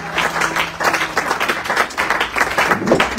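A church congregation claps and applauds, a dense, close wash of many hands in continuous, slightly rhythmic bursts.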